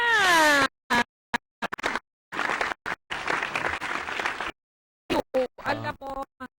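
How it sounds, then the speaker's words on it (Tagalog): Audience applause from a studio crowd comes in choppy bursts, interrupted by gaps and mixed with voices and brief tonal sounds. "Bigyan natin ng pasigabong palakpak niya."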